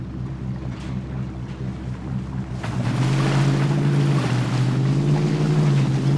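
Chevrolet Trailblazer in the MudRunner video game ploughing through river water, a steady engine drone joined by a rising rush of splashing and sloshing that grows louder and stays constant.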